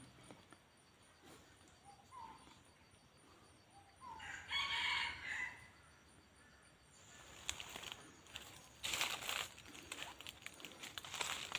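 A red junglefowl rooster crows in a forest setting, a few calls standing out at moderate distance from a quiet, rustling background, with another burst of activity near the end.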